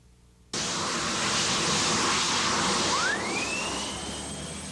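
A turbine-powered hydroplane racing boat engine bursts into a loud, continuous jet roar after a quiet start, with a rising whine sweeping upward partway through before the roar eases slightly.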